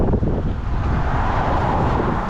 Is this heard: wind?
yes